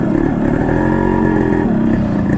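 A Yamaha RX 100 motorcycle engine revs loudly and steadily up close, a throaty two-stroke burble holding for a couple of seconds.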